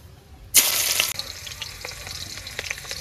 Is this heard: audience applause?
no